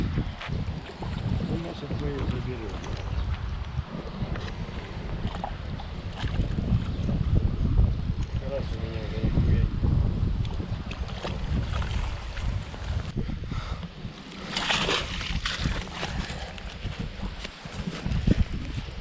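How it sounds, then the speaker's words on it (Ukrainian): Strong wind gusts roar and buffet the microphone in heavy rumbling bursts while fishing by the water, with faint sounds of water and movement, and a voice speaks briefly. "Вітер дуже сильно піднявся"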